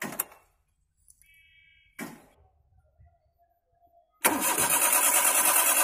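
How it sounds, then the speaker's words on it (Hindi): Maruti Suzuki Alto with a faulty ECU cranks repeatedly without firing: short bursts of starter whirring separated by pauses, then a loud, steady, sustained noise that fills the final seconds. "फ्रेंड्स आप देख सकते हैं गाड़ी स्टार्ट नहीं हो रही है।"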